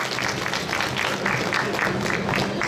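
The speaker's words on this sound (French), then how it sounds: "On vous demande de l'applaudir bien fort, s'il vous plaît." A cosplay contest crowd gives a cosplayer on stage a dense, steady wash of applause, loud and continuous throughout with a faint murmur of voices underneath.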